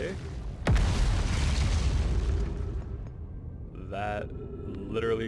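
In the space exploration game Outer Wilds, the shuttle arrives when called with a sudden loud boom, followed by a sustained rushing roar that fades. Brief synthetic tonal chimes sound near the end.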